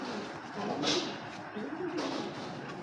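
Soft, low coos from a pair of Bagha pigeons rise and fall a couple of times against a faint background hiss.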